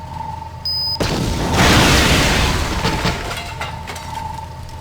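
A loud, close explosion booms in the video game Star Wars: Knights of the Old Republic, a sudden blast followed by a rumbling, crackling roar that fades over several seconds.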